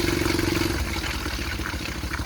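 Loud, steady engine roar of a homemade helicopter being revved up close, a continuous throaty drone with a rough, pulsing low end and no talking over it.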